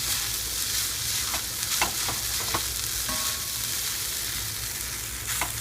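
Vegetarian fried rice sizzles in a pan while it is stirred. A continuous frying hiss is broken by several sharp scraping clicks from the utensil, and no one speaks.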